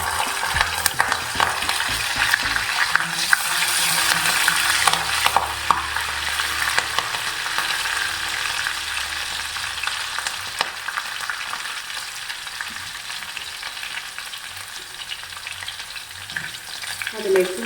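Curry leaves and green chillies sizzle and crackle in hot oil for a minced beef pickle, a steady close frying hiss with occasional stirring clicks and pops throughout, no voices.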